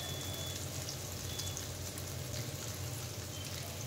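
Amla, Indian gooseberries, fry in oil for a pickle, making a soft, even sizzle with fine crackle that runs steadily and quietly throughout with no talking.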